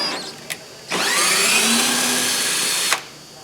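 A power drill runs a screw into a window frame: a short click, then a steady high whine for about two seconds that ends with a sharp stop, alone and close.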